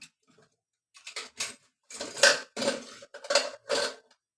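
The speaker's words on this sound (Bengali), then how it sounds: "এই দেখুন চাটু দিয়ে দিয়েছি" A tawa griddle is set down on a stove, producing a cluster of clanking metal knocks and rattles in quick bursts, loud and close, separated by brief silences.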